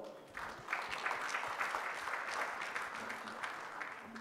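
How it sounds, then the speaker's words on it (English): An audience at a counter-terrorism conference session applauds the panel with steady, moderately quiet clapping that fills the hall. "Please give the panel a loud round of applause."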